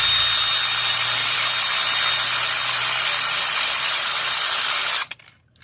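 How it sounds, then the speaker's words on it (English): A cordless air ratchet works a spark plug loose on a 2007 Chevrolet Tahoe 5.3L V8, a loud continuous high whirring buzz held for about five seconds, then cutting off abruptly. "I'm going to go ahead and throw my cordless air ratchet on this plug here."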